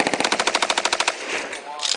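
A machine gun fires a rapid, evenly spaced burst of about twenty loud close shots at army range targets, then stops, leaving echoing rumble and a brief noise at the end.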